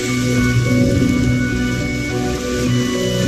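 Rain falling in Honkai: Star Rail, a steady dense hiss of rainfall on surfaces, loud and continuous, with a low musical drone underneath and no talking.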